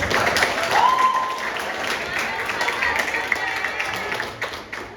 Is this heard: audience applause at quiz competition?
yes